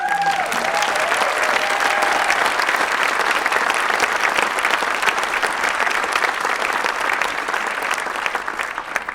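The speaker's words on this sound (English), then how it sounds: "if you wouldn't mind giving Jordan and David and the crew a really big round" A large audience at an evening conservation panel event gives a sustained, dense round of applause that stays loud and steady for about nine seconds, thinning slightly at the end, with a faint voice briefly audible at the start.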